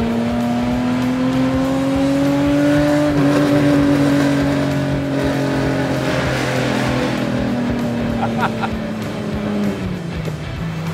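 BMW 635 CSi engine pulling hard from inside the car, a loud steady drone rising in pitch, then easing off and dropping at a gear change, with wind and road noise underneath.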